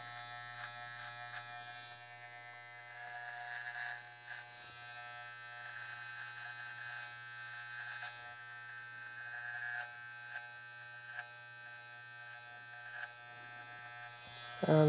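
An electric hair trimmer buzzes steadily and close by during a skin fade haircut, a constant motor hum with small shifts in level as the blades work through the hair.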